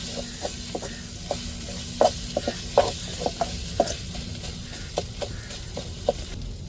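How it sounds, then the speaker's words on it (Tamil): Dried fish fries in a pan under steady stirring, a soft continuous sizzle broken by frequent light scraping ticks of the spoon, close and fairly quiet with no voices. "கிண்டிக்கிட்டே இருக்கணுங்க பிடிக்க விடாம."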